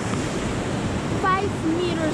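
A rushing glacier-fed mountain river near Grindelwald in the Alps gives a steady, broad roar of water throughout, with a couple of brief faint tonal sounds over it and no voices.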